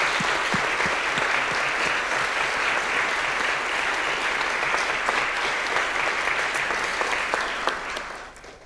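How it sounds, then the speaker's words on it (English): Sustained applause from a conference audience, dense and steady for several seconds before tapering off at the end. "I ask you to give a warm applause to the translators"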